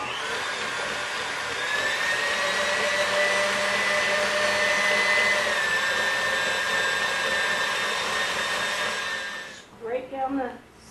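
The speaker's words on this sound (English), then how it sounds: "So now we'll mix it till it's all blended." Electric mixer blending pumpkin pie filling in a bowl, with a steady close motor whine that holds for about nine seconds and then cuts off, followed by a brief bit of speech.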